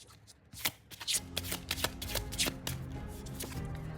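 Oracle cards being shuffled by hand for a fortune reading, giving a close series of quick papery riffles and flicks in irregular bursts, quiet and with no talking.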